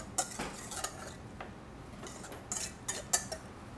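Salt, black pepper and other salad dressing ingredients are mixed in a bowl with a utensil, producing faint, irregular clinks and scrapes of metal against the bowl, with no voices.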